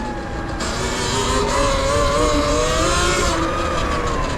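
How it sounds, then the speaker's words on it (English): Police truck siren wailing on a Los Angeles street at night, a continuous rising and falling tone over steady traffic noise, moderately near and unbroken. "Got a policia truck right there."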